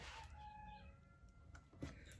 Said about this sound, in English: One of the roosters is crowing.